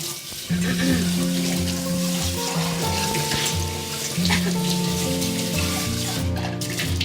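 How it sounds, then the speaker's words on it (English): A stainless steel tri-ply pan rinsed under a running tap, with water splashing and drumming steadily into the pan and sink and a ringing metallic resonance throughout. "I'm just going to rinse it now"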